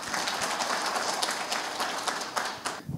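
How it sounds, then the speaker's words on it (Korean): An audience at an academic presentation claps to welcome a professor, steady indoor applause from a modest crowd lasting a few seconds before tapering off. "박수로 맞아주시기 바랍니다"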